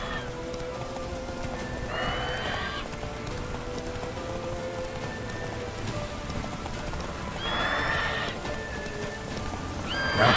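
Hooves of the horse Roach pound at a gallop through rain in The Witcher 3 video game, with steady patter underneath and two bursts of whinnying neighs standing out loudly at intervals.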